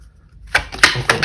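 Tarot cards are shuffled by hand: a short quiet pause, then four crisp riffling bursts in a loose rhythm, close and fairly loud.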